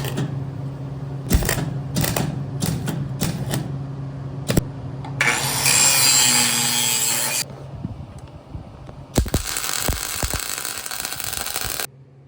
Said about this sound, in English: Here I'm just cutting the back plate for the bracket so that I have something to weld onto on the back side.